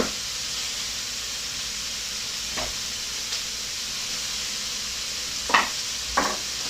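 Red onions frying in a pan during a light couscous dinner, giving a steady soft sizzle and hiss with a few brief stirring scrapes near the end, no talking.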